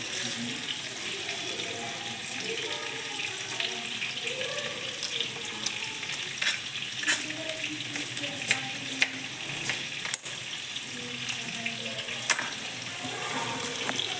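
Tomatoes with long-sliced onion fry for chutney in a pan, giving a steady low sizzle with soft scrapes and stirring clicks throughout, no voices.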